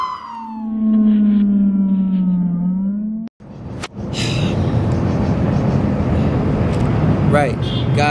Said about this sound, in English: That siren's getting louder and closer